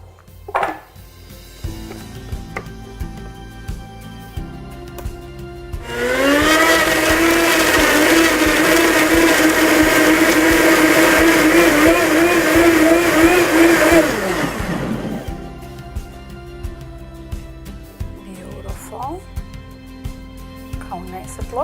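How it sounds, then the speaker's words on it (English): Blender pureeing strawberries, whirring loudly and steadily for about nine seconds in the middle before stopping, with quieter kitchen sounds and background music around it. "We will puree all these nice strawberries."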